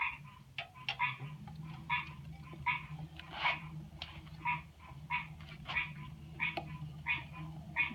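A chorus of frogs croaking before rain in a steady, repeating rhythm, loud and close, with no talking.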